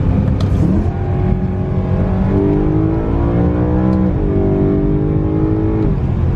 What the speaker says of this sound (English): Here's a quick little pull for you guys.